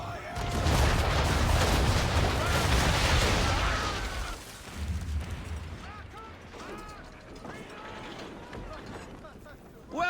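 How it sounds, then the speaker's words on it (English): Ship cannons firing a broadside in the video game Assassin's Creed 3, a loud rolling volley of booms at sea that fades into splashing water and creaking timbers, with voices faintly underneath. "Bring around broadside, and when all guns are on target,"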